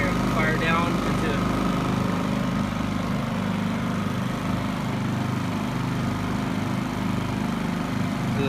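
A Honda EU2000 portable generator runs steadily in economy mode, a continuous low engine drone held at an even level throughout, with a person talking faintly over it.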